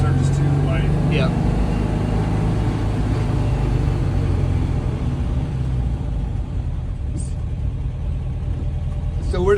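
A restored Porsche 356 engine idles with a steady low rumble that runs throughout, close by, while people talk over it.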